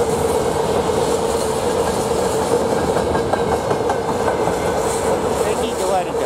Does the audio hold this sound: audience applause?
no